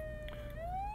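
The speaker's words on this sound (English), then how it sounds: "Turn our sirens on." Police siren from the video game Flashing Lights, a faint wailing tone rising steadily in pitch over the brief stretch, sounding distant and alone without any talk.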